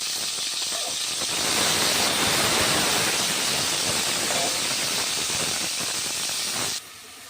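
Onion, tomato, pepper, cumin, green chilli and whole spices sizzling in hot oil in a pan, a loud continuous frying hiss up close that cuts off sharply near the end.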